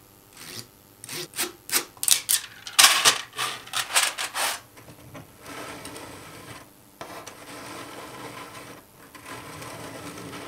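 A 3D printer runs with rapid, rhythmic mechanical clattering and rasping bursts that are loud over the first few seconds, then give way to a quieter, steady whirring hum.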